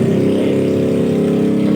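A faulty Harman Kardon SUB-TS11 subwoofer drones with a loud, steady, raspy and distorted buzz that holds unbroken for the whole moment.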